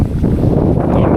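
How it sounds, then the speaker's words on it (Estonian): Strong wind buffets the microphone outdoors on a perch fishing trip on Saaremaa, a loud, steady low rumble with no voices. "ma ei tea, kas see tuul täna vaibub"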